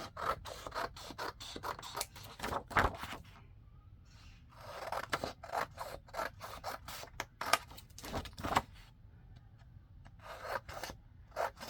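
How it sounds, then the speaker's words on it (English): Scissors snip steadily through paper library pockets, trimming off the white lines in a quick run of close, crisp cuts broken by short pauses. "I'm just cutting all the white lines off"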